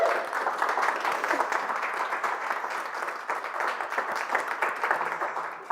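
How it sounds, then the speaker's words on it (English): Audience at a general meeting of an electric vehicle association applauds the hosts, an Audi dealership; steady, dense clapping from a sizeable crowd fills the room without a break and continues at full strength. "Let's give them a round of applause."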